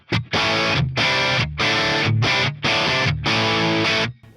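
A heavily distorted electric guitar through a Marshall Origin 50 tube amp plays loud, chunky chords in several sustained bursts with brief gaps, a thick crunchy amp tone.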